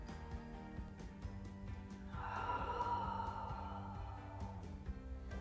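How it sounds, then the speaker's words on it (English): Slow breathing during a beginners' yoga toe-touch session, a soft, drawn-out breath that swells midway and tapers, faint and close with no talking. "Find 2 more breaths here."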